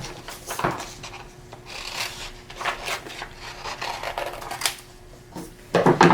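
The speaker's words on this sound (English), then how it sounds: "with our scissors, we can cut this little crescent shape" Scissors snip through folded paper to cut crescent-shaped leaves for a fall wreath craft, giving several sharp, close crisp cuts separated by short pauses, with a louder flurry of snips at the end.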